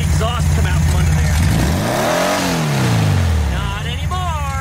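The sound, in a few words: 1974 VW Beetle engine running after repairs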